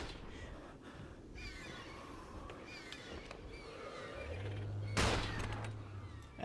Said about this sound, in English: A single shot should take them out